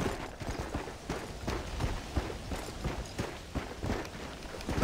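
Horse hooves gallop in Red Dead Redemption's Undead Nightmare, a steady run of rhythmic clip-clop thuds under continuous game ambience at moderate loudness.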